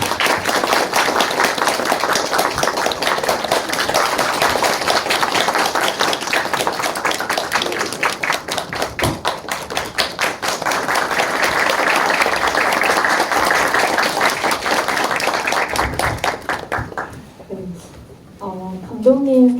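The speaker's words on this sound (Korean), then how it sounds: "박수로 환영해 주세요." Loud, dense cinema audience applause welcoming a film director and actress at a Q&A screening at Artnine, sustained for about seventeen seconds before fading out, with talk starting at the end.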